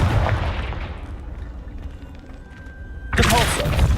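A Confringo blasting spell goes off in Hogwarts Legacy: a loud, close burst erupts near the end, after a stretch of lower rumbling spell and combat noise.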